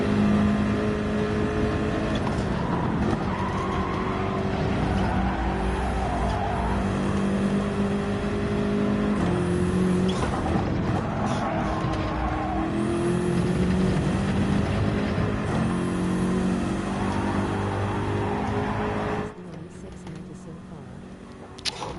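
Race car engine in Gran Turismo 7, a continuous droning, revving drive in third gear with the rear sliding, steady and loud for most of the stretch before dropping near the end, with someone talking over it.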